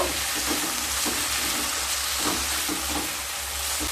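Tomato ketchup and Schezwan chutney being stirred together in a hot pan while making restaurant-style Hakka noodles, a steady close sizzle with soft scraping strokes of the spoon throughout.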